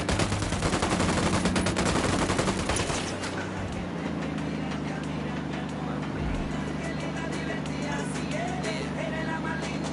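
Automatic gunfire in the tactical shooter game Ghost Recon Wildlands, dense and loud bursts for the first few seconds, then a steady rumbling game soundscape with a vehicle-like drone and music underneath.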